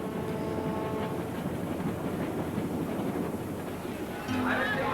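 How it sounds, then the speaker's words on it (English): An Andean mountain train climbs steadily on its rails, a continuous low rumble of wheels and cars running throughout, with a brief brighter squeal near the end. "Going forward again, the train has climbed 300 vertical feet up the side of the mountain."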